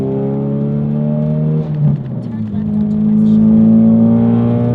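A 2017 Ford Focus RS fires up on a cold start with a brief catch, then settles into a loud, steady idle that climbs slightly in pitch and holds close by.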